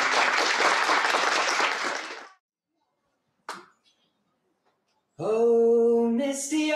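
A burst of applause from a crowd at a live performance fills the first two seconds, then silence with a brief noise, then a singing voice begins.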